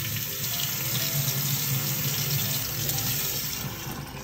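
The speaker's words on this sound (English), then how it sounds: "Now we're gonna run it under warm water and rub it gently." Warm water streams steadily from a kitchen tap over a vinegar-soaked egg being gently rubbed, a close, continuous splashing rush with no talking.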